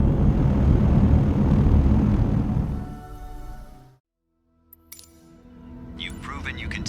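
A Dune ornithopter in Microsoft Flight Simulator roars at full takeoff power, then the engine noise fades out to near silence before a few clinks and a rising whine return, with a voice talking over it.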